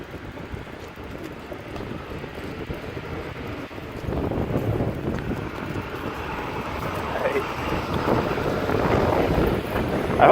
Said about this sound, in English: The wind is kind of blowing.